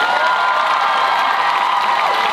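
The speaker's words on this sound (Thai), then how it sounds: "ขอเสียงปรบมือให้เขาอีกครั้งหนึ่งครับ" Loud, continuous applause and cheering from a pageant audience at the Miss Grand Thailand 2022 crowning event, a dense crowd roar with whoops that holds steady throughout.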